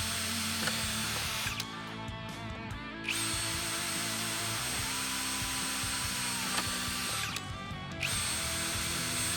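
A RIDGID OCTANE 18V hammer drill whirs loudly and steadily as a 1/8 inch bit bores through material, pausing briefly twice while the motor spins down and then revs back up.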